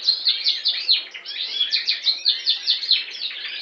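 A Border canary, a national champion, sings a rapid run of bright, high trills and chirps, close and clear, with no other sounds.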